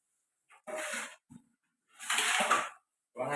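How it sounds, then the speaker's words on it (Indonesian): Organic fertilizer mixture being stirred after watering, giving bursts of wet scraping and sloshing in irregular strokes with short pauses between them, fairly close and moderately loud. "setelah kita siram, kita aduk kembali sambil kita cek"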